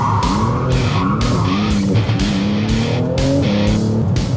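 A Porsche 911 GT2 RS, a 700-horsepower turbocharged sports car, roars loudly and continuously through repeated rising engine pulls, the turbo engine surging up and down with no talking.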